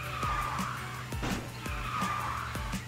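Kart drifting in the racing game KartRider: Drift, with repeated screeching slides over a steady engine drone, each skid arriving in a regular rhythm close up.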